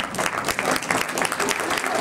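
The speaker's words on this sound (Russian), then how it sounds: "Аплодисменты." Audience applause after a military orchestra's performance, dense and sustained clapping from a large crowd, fairly loud and even, with a faint voice briefly under it.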